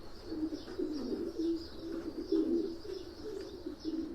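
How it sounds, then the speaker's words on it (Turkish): Repeated low cooing from a red racing pigeon murmurs close by, steady and soft, with faint higher chirps in the background. "Kırmızı bir güvercin arkadaşlar"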